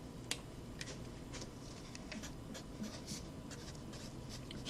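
Pen or marker strokes across a surface as an equation is written down, soft scratchy bursts and taps in an irregular rhythm, faint and close in a quiet room.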